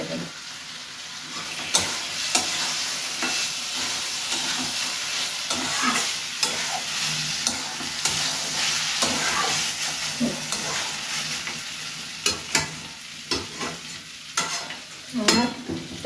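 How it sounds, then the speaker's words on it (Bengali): A spoon stirs papaya curry with cumin and garam masala in a sizzling pan, with steady frying hiss and repeated scraping strokes throughout, close and fairly loud. "জিরা গরম মশলা দিয়ে নাড়িয়ে নিলাম।"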